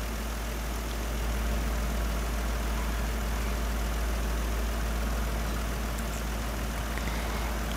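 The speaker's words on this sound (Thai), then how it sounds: "มาฟังเสียงเครื่องครับเนียนสนิทครับ" An old Japanese car engine, freshly installed, idles smoothly with a steady, even drone that holds unchanged throughout, near and fairly loud, with no voices.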